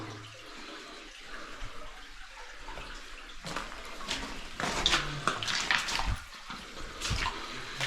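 Small waterfall inside a hidden cave: a steady rushing, splashing flow of water that echoes, with a few louder splashes and bursts toward the end.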